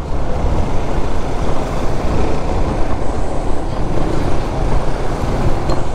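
Steady road traffic on a city street, a continuous broadband rumble of passing cars and trucks heard from inside a moving vehicle, constant and fairly loud throughout with no talking.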